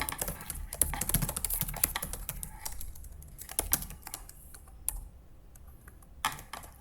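Quick irregular keystrokes on a computer keyboard while writing JavaScript code, clustered bursts of clicks with brief pauses, close and fairly soft, with no voice present.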